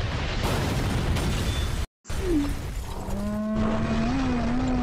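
An RPG rocket explodes in a video game with a loud, broad blast, cut by a brief dropout, followed by rumbling debris and rising tonal game effects.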